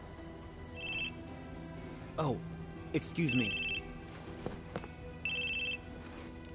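A flip phone rings in the game Crisis Core Final Fantasy VII Reunion, a bright electronic ringtone in three short bursts, with character voices and game sound effects between them and a brief spoken line.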